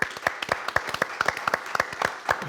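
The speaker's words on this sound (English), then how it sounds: "Everyone in the room, let's give a round of applause." Audience at a live sports talk show breaks into applause, scattered sharp claps standing out over a dense bed of clapping for a couple of seconds, with some voices mixed in.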